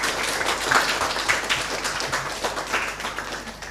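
Applause for a primary school contestant at a spelling bee competition, a steady wash of clapping from a seated audience throughout.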